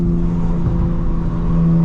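Car with a Mastery of Art and Design exhaust, heard close and loud as a steady, deep engine drone with a strong humming tone that holds without a clear rise in revs.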